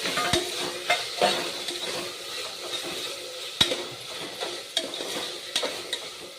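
Chopped capsicum tossed into a hot pan with tomatoes for capsicum rice, a continuous sizzle broken by repeated sharp scrapes and clinks of a spoon stirring against the pan, close and fairly loud, with no talking.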